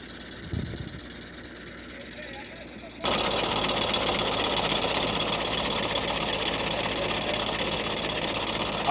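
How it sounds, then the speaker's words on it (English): Potato digger machine working a field, a loud steady mechanical clatter and engine drone that kicks in abruptly after a few quieter seconds and continues close by. "The potato digger was digging a little too deep in the ground."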